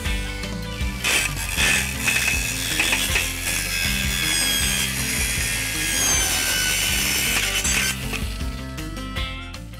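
Polycarbonate roofing pieces sawn in a garden, a close, loud rasping saw with repeated back-and-forth strokes running almost continuously.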